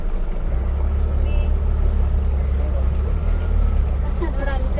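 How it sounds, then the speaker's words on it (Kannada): A motorboat engine drones low and steady on a mangrove backwater in Trivandrum, Kerala, as another boat draws alongside, with wind rushing across the microphone and faint voices near the end. "ಬೋಟು ಬಂದು ಇಲ್ಲಿ ಮುತ್ಕೊಡ್ತಾ ಇದೆ ನಮ್ಮ ಬೋಟು ಅವ್ರ ಬೋಟ್ಗೆ"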